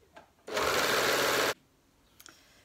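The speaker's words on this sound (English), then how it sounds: "So we've got our three lengths of fabric, overlock, overlock, over edged on the sewing machine" Sewing machine overlocking the edges of fabric lengths, one close, loud steady whirring run of about a second, with quiet clicks before and after.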